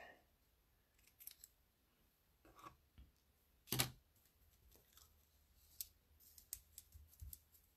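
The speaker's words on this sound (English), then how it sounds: "I'll trim this one down because it does not need to be the full length." Scissors trim paper for watercolor butterfly wall art and a card, giving quiet, scattered snips with one sharp louder cut near the middle, close by in an otherwise quiet room.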